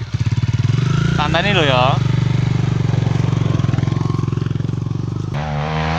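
Motorcycle on a mountain forest trail at Gunung Purwo Suci, its engine loud and close with a fast, steady pulsing putter throughout, as people talk over it now and then.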